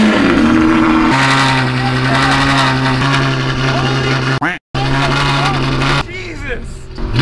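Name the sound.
Ferrari 812 Superfast with Ryft titanium exhaust running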